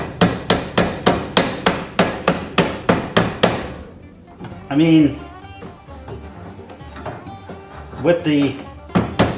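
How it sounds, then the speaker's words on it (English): A hammer taps a press-fit part on a 1972 Chevrolet C10 barn-find truck, about a dozen quick, evenly spaced metallic knocks close up, then stopping as someone speaks briefly. "sometimes you want to give it a little tappy tap"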